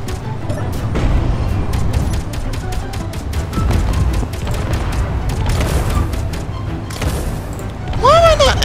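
A tank fires repeatedly in the game Space Engineers, a rapid series of sharp booms and thuds over a continuous engine rumble, with a person talking throughout.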